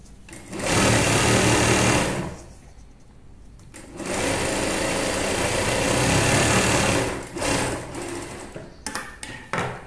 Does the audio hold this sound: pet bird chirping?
no